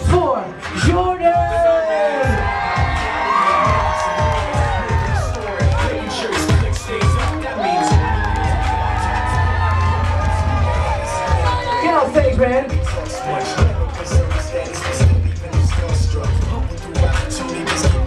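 Bar mitzvah party crowd cheering, whooping and screaming loudly and continuously as the guest of honor is introduced, with a sustained roar swelling midway and shouts over music-like babble throughout.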